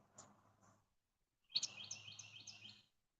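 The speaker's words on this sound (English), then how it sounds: "Hear the bird singing this morning?" A bird sings outdoors in the morning, with a couple of faint chirps followed by a brighter, closer trill lasting about a second and a half.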